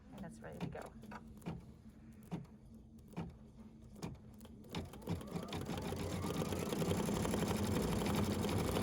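Embroidery machine stitching a hand-look design in matte thread over mylar, starting with sparse separate clicks and thumps that build into a steady, loud mechanical whir in the second half, with a voice talking over the early part.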